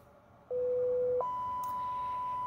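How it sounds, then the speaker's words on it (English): A steady electronic tone comes through on lower sideband as a receiver is tuned, holding one pitch briefly and then jumping to a higher pitch that continues to the end. "As I tune up, I should start to hear a tone."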